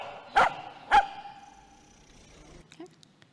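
A dog barks sharply twice in quick succession during a rabies reaction test with a stick, followed by quieter whining and faint rustling.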